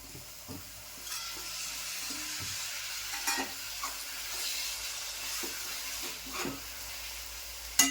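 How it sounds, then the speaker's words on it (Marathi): Dried baby shrimp (sukat) fry in a pan with masala in Malvani style, giving a steady sizzle with occasional stirring scrapes and clinks throughout, close and moderately loud, with no talking. "आता हे सगळे एकजीव झालं आहे आता सुकट टाकून घेते"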